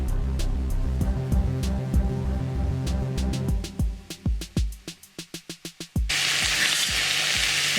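Tofu, beans and Chinese cabbage fry in a pan with a steady close sizzle. A series of sharp stirring knocks rings out near the middle, then a louder burst of hissing.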